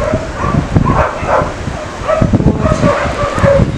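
Several dogs bark and yelp almost continuously at a dog shelter housed in an old abandoned building on the outskirts of a village, close and loud, with a brief word spoken among them.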